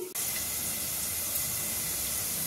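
Dal poured into a hot Telugu-style tempering in a pan while cooking mango tomato pappu, giving a loud, steady steam hiss that starts abruptly and continues unbroken.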